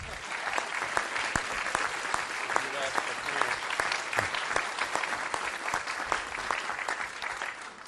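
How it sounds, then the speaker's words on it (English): An audience at a school board meeting gives a sustained round of applause for student brass players on French horn, bass trombone and tuba: continuous crowd clapping with distinct sharp claps throughout, fairly even and moderately loud. "How about a round of applause for them?"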